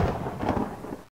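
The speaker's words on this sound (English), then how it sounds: "Lightning." Thunder sound effect for a lightning flash card, a short loud rumbling crack with rain-like hiss that cuts off abruptly after about a second.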